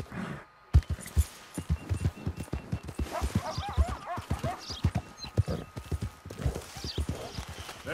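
Horse hooves clip-clop steadily at a walking pace in Red Dead Redemption 2, with a horse snort or whinny and a voice speaking intermittently over the hoofbeats.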